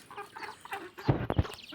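Hens peck and cluck close by while being fed rice, soft murmuring clucks building into a few louder, abrupt calls near the end.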